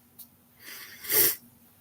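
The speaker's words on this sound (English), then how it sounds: "Sorry for my sniffles." A short, wet nasal sniff, one quick intake through the nose after a faint earlier breath, close and fairly quiet.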